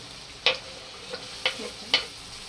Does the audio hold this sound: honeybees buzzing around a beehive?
no